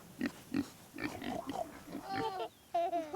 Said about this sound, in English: The pigs make this sound.